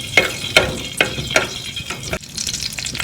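Whole coriander seeds and cumin roasting in a hot pan, stirred in a steady rhythm of scraping strokes over a soft, continuous sizzle, close and moderately loud with no talking.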